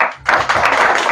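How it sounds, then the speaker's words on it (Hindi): Crowd clapping for a woman at a Hindi-language Christian sermon: a dense burst of many hands starts abruptly and stays loud and steady for about a second. "क्या बात है, बहन के लिए ताली बजा।"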